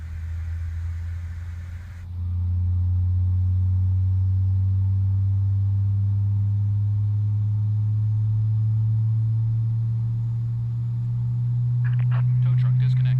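A CRJ jet engine in Microsoft Flight Simulator spooling up during start, a steady low rumble that slowly rises in pitch, with a faint high whine and a few brief clicks near the end.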